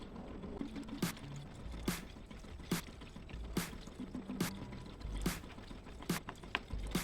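A shaker table runs with pre-saturated, clayey quartz material, giving a steady wet rattling and trickling under faint background music, punctuated by regular sharp clacks about once a second.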